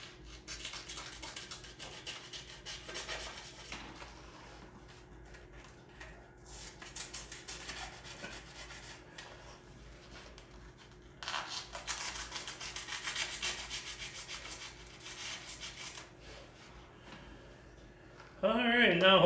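A tool rasps and rubs at a wooden skateboard deck while notches are cut into it, in quiet bursts of scraping, fairly close, with a louder clatter at the very end.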